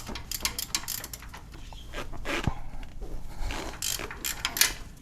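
Ratchet clicking as it backs off axle bolts under a 3rd-gen Toyota 4Runner during a rear axle rebuild, a rapid run of faint metallic ticks over low shop rumble, with no voices.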